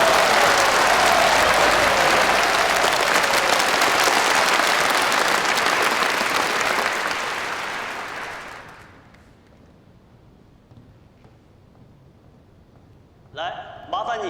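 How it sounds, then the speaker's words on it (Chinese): An audience at a staged event breaks into loud, sustained applause that carries on for about eight seconds before fading away, followed by a short quiet gap and a brief burst of sound near the end. "大家给点掌声。"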